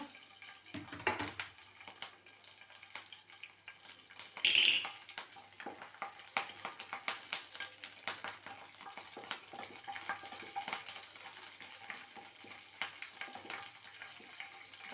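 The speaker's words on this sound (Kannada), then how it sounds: "ಕರಿಬೇವು ಸ್ವಲ್ಪ ಗರಿ ಗರಿ ಆಗಬೇಕು ಅಲ್ಲಿ ತನಕ ನಾವು ಇದನ್ನು ಫ್ರೈ ಮಾಡ್ಕೋಬೇಕು" Curry leaves fry in a pan for a kosambari salad, giving a soft, steady sizzle with light crackles and stirring scrapes throughout, and one louder spatter partway through.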